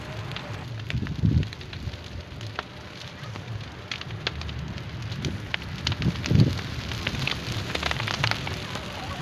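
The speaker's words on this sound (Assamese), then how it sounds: "এতিয়া আমি মেজি জ্বলাব আহিছোঁ ভেলাঘৰ জ্বলাব আহিছোঁ" A small Bhelaghar hut of straw and wood burns as a Magh Bihu bonfire, crackling and popping continuously with sharp snaps scattered throughout and a couple of louder bursts.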